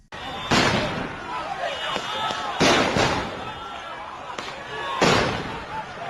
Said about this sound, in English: They're using flashbangs!